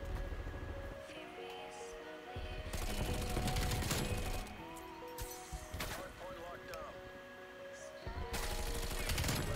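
Bullfrog submachine gun firing in Call of Duty: Black Ops Cold War, several loud rapid automatic bursts separated by short pauses, close and punchy, with a player's voice talking between and over them.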